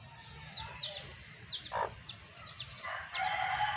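Chickens clucking and chirping in a farmyard: a hen with her small chicks, repeated short peeping calls and clucks fairly close, with a hum of background noise throughout.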